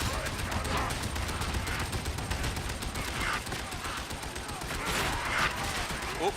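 Suppressing gunfire in a shooter video game, a steady, dense stream of rapid shots and distant blasts running throughout at moderate loudness, with a voice talking over it.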